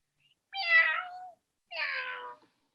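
A cat meows twice, close and clear, two drawn-out calls about a second apart with silence around them.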